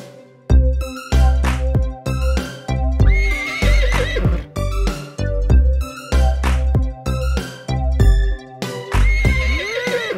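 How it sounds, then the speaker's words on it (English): A horse neighs loudly over and over in bursts, with whinnying cries and some clip-clop hooves, close and prominent with short pauses between calls. "A brown horse neighs real loud"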